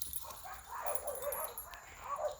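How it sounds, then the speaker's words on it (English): Puppies whimper and yip in a soft, rising and falling chorus of high whines, faint and fairly close, continuing over the short stretch. "Those are happy puppies right there."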